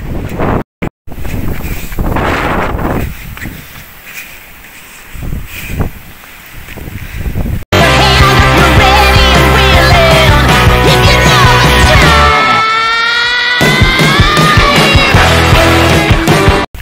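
Strong stormy wind roars across a farm field where jowar grain lies drying, a loud, constant buffeting rush against the microphone that grows heavier and fuller partway through.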